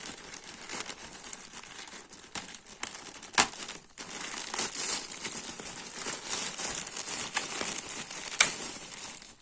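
Plastic packaging of a dual band USB WiFi 1300 Mbps adapter box being handled and opened, with steady crinkling and crackling close by, several sharp clicks, and no talking.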